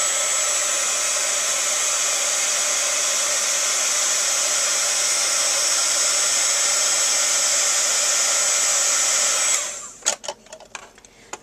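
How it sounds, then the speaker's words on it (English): A handheld embossing heat tool blows a steady, loud whirring stream of hot air over embossing powder on a stamped card, holding constant for about nine seconds before switching off, followed by a few soft taps and clicks. "I'm going to grab my heat tool here and melt the powder"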